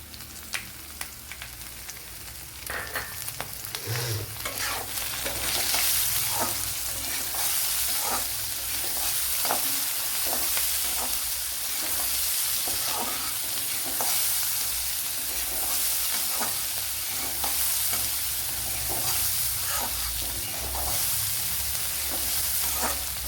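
Chopped onion is tipped into a frying pan for rava upma and stirred, producing a sustained bright sizzle with repeated spatula scrapes and taps throughout, close and steady, no talking.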